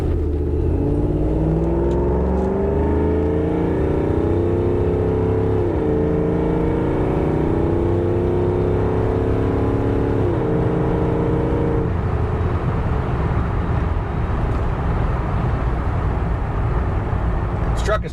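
A 1989 Ford Ranger pickup's engine pulls hard while driving, loud and close, its drone rising in pitch through the gears before easing into a steadier roar with road and wind rumble.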